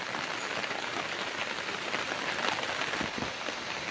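A sudden downpour falling outside a home on a cloudy day: a dense, steady hiss of rain striking surfaces, even and continuous throughout with no voices.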